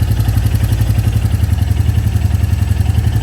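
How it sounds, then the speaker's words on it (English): A Royal Enfield Classic 350 Reborn motorcycle engine idles close by with a steady, rapid chugging pulse and a metallic clatter, loud and continuous. "so the engine is started"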